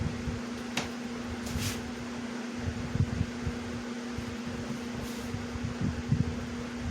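A Cool Master floor fan running on medium speed after a motor swap, a steady motor hum with a tonal drone and airy rush, plus a few faint knocks and clicks nearby.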